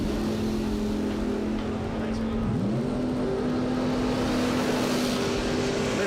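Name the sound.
Mopar drag race car moving on at a bracket race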